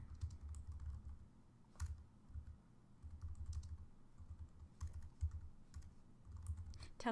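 Quiet, close typing on a computer keyboard, rapid irregular key clicks in short runs with faint background hum.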